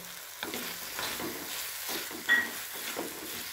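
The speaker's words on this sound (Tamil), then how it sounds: "இப்போ போட்டு நல்லா கிண்டி விடுறேன்" A spoon scrapes and stirs kothi kulambu in a pan over the heat, a sizzling simmer running underneath, with a few distinct scraping strokes and a sharp clink near the end, close and fairly quiet.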